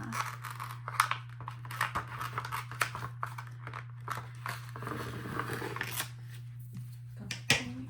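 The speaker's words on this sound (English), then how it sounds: "I was getting some bigger scissors" Large scissors snipping and being handled while trimming laminated journaling cards, a series of short crisp cuts and rustles over a steady electrical hum.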